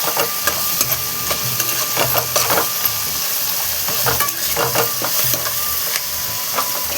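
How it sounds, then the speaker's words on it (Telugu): Paneer curry masala frying hard in a pan over a high flame, a steady close sizzle broken by clattering stirs and scrapes throughout, with no voices. "దీన్ని అయితే హై ఫ్లేమ్లో పెట్టుకొని ఫ్రై అయితే వేసేసుకోండి"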